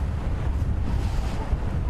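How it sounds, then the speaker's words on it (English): Wind blowing hard on an outdoor safari drive, a continuous low roar and buffeting against the microphone throughout, with no voices. "It's too windy for them."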